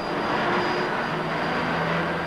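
An F-4 Phantom II jet engine spools up on an aircraft carrier deck. It gives a loud, steady broadband roar with a thin high whine running through it, and the roar holds at constant power throughout.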